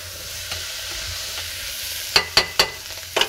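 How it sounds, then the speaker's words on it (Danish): Celeriac, onion and garlic fry in a pan with a steady low sizzle, joined near the end by several sharp stirring scrapes and clatters close by. "Og jeg steger lige af først, fordi så får det sådan en karamelliseret smag."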